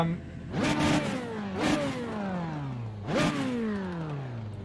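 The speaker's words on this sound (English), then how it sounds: "If I just rev the engine, can you still hear me over that?" A Formula B race car in the iRacing sim at Spa-Francorchamps is revved three times, each blip rising sharply then falling away in a long whining sweep, loud and close, with a voice speaking over it.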